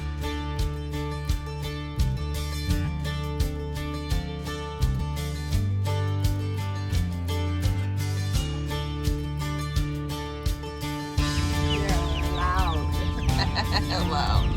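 Mail-ordered meat chicken chicks cheep in short, high chirps, heard mostly near the end over steady background music.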